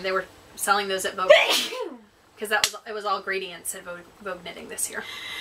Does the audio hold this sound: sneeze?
yes